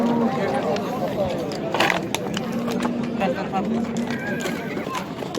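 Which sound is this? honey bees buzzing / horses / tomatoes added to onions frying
horses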